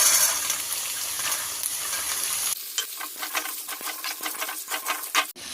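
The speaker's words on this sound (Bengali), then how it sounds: "কুমড়ো, আলু, চানা ভালোভাবে নেড়ে নিয়েছি। হালকা ভাজা হয়ে গেছে।" Potato, pumpkin and soaked chickpeas frying in a pan for a mixed vegetable curry, with steady sizzling at first, then quieter frying broken by clinks and scrapes of a spoon stirring, up close with no talking.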